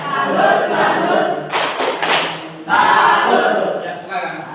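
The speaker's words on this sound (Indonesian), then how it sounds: "Ya, tepuk salut." A school class performs the 'tepuk salut' clapping routine: a burst of sharp, rhythmic group claps and thuds in the middle, with children's voices chanting before and after.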